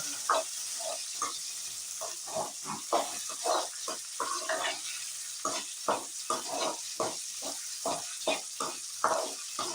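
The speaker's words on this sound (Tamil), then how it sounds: "மாங்காய் போட்டேன் நல்லா எண்ணெயில் போட்டு நல்லா வதக்கணும்" Raw green mango pieces being sautéed in oil for pickle, with a steady hiss of frying and repeated soft scraping stirs in a regular rhythm, close up.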